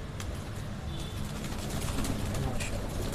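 Highflyer pigeons at a loft in Islamabad coo softly amid a dense, busy background of rustling and ambient noise, with a few brief higher calls.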